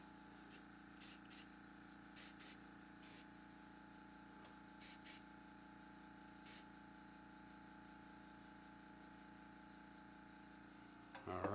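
Super glue activator sprayed in several short, sharp hissing bursts from a can, some in quick pairs, over a constant low workshop hum.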